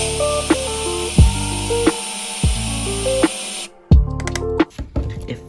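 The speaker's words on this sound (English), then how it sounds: "So basically, you're gonna want to drill here and here." A small drill bites into the base of a 1/64 Hot Wheels die-cast car during a wheel swap, several short whirring bursts that rise and stop in quick, uneven succession, close by.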